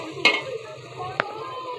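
Spice paste with tomato frying in a pan and being stirred, a soft sizzle under two quick scraping clinks of the spoon against the pan.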